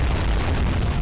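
Bomb blast striking a ship in the naval combat game War on the Sea, a dense, rumbling roar of noise filling the whole second with no voices.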